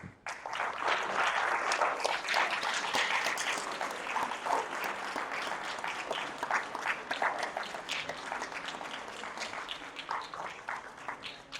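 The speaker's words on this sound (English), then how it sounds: "we want to applaud both teams" Audience applause for both teams at the end of a junior youth Bible quiz competition, a broad, sustained round of clapping from a sizable crowd that slowly thins toward the end.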